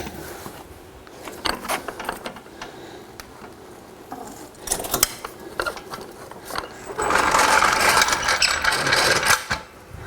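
Car lift lowering a Porsche GT3 RS, a mix of mechanical clicks, ratcheting clacks and a whooshing release near the end, close and moderately loud with no talking.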